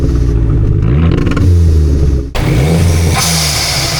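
A Dodge SRT4 Neon with a turbocharged 2.4 liter four-cylinder revs loudly and close by, two rising-and-falling throttle blips separated by a brief dip, with turbo whoosh and rumble.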